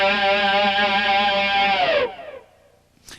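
A slow electric guitar lick with heavy distortion rings out as sustained, bending harmonic notes for about two seconds, then cuts off and decays into a brief tail before a small pick noise at the end.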